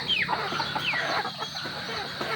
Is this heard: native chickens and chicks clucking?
yes